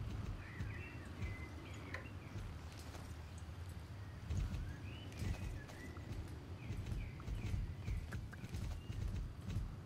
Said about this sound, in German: Reiten wir mal hier die Treppe hoch.